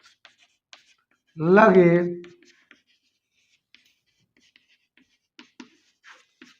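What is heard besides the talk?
teacher writing maths solution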